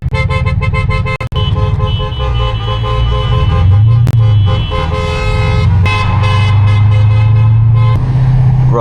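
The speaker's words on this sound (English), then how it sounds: "I'ma just honk." A Mercedes S-Class horn blares loudly from the driver's seat in a long, sustained honk with a few brief breaks and short repeated toots, while the engine hums steadily underneath.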